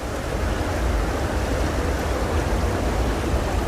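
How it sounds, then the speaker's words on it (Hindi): Turbulent, swollen Ganges waters surging past a flooded ghat at Haridwar during monsoon rains, a dense steady roar of rushing water and churning waves, loud and unbroken with no voices. "देख सकते हैं उफान भरी लहरें।"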